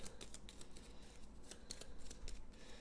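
Cards being shuffled for an Eldritch Horror board game, a quick run of soft riffling clicks and snaps, close and faint, with no voices.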